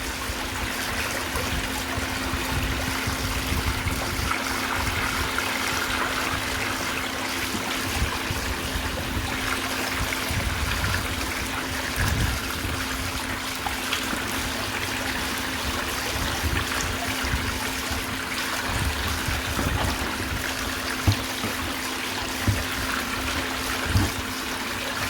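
Rinse water from a gold recovery process runs out of a bucket in a steady trickling stream. A constant low hum sits beneath it and a few faint knocks occur near the end.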